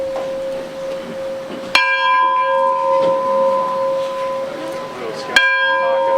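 A large bell struck with a hammer or pulled by rope at a Fourth of July gathering rings out twice, each loud clang followed by a long, sustained metallic hum, with crowd chatter faintly beneath.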